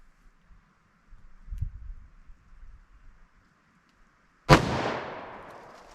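A single sharp, loud report from a .357 Magnum snub-nose revolver firing Corbon DPX ammunition, decaying with a short echo after quiet handling noises.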